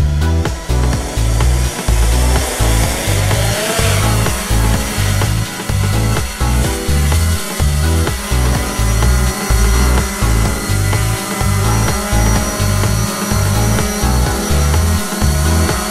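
A 3DR Iris+ quadcopter drone lifts off and hovers close by with a loud, buzzing rotor whine. The whine pulses and wavers steadily as the motors adjust.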